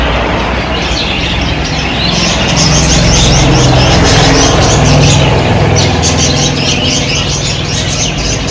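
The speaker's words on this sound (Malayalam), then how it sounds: "നമ്മളെ കിളികള് ബാക്ക്ഗ്രൗണ്ട് മ്യൂസിക്കായിട്ട് അവരുടെ സൗണ്ട് ഉണ്ട് കേട്ടോ" Birds chirp and squawk around a home garden of orchids, bright repeated calls scattered over a loud, constant background rush, with no talking.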